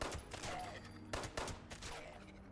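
Gunfire in Fallout 76 as a ghoul is shot: rapid bursts of several quick shots, a pause, then another volley, fairly quiet overall.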